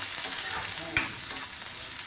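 Onion and green chillies fry in mustard oil for an Assamese-style Leucas aspera dish, giving a steady close sizzle with one sharp clink of a utensil midway.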